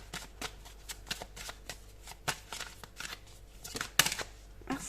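Oracle cards are shuffled close up, with a rapid series of crisp riffling flicks and soft slaps in an uneven rhythm, moderately quiet, with no voice.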